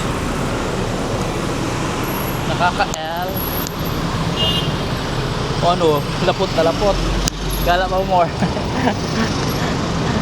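Busy road traffic in Bangkok, Thailand, a steady close hum of cars and buses with passing engine swells, heard beneath people talking.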